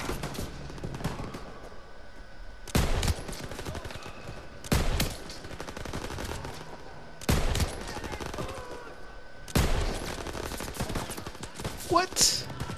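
Gunfire in Call of Duty WWII, heard as several loud separate bursts spaced a couple of seconds apart over a steady background of distant battle noise.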